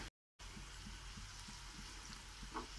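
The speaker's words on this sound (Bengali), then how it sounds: "আমি এবার এই মাছগুলোকে কড়াইয়ের মধ্যে ছেড়ে দিচ্ছি। মিডিয়াম আঁচে রেখে ভেজে নিতে হবে মাছগুলোকে।" Fish pieces shaped into cabbage fritters fry over medium heat in hot oil in a wok, giving a steady, soft sizzle and crackle after a brief moment of silence, with no talking.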